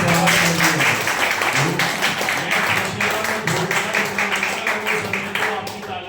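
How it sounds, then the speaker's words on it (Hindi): An audience at a counselling session bursts into sustained applause, a dense wash of many hands clapping steadily over several seconds, with a voice talking over it at the start. "अगर बात सच कह रहा हूँ तो तालियों से उसका स्वागत कीजिए।"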